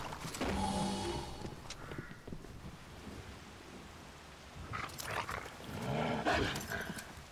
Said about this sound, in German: Okay, wir haben einen Hund freigelassen auf jeden Fall.